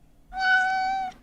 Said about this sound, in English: This is multiple meows.